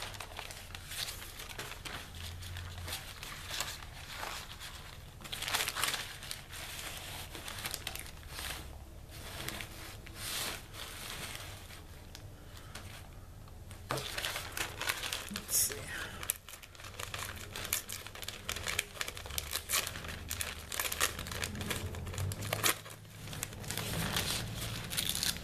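Rice paper being crinkled and handled at a craft table, a continuous close rustling and crackling with uneven bursts of louder crumpling, while someone talks over it.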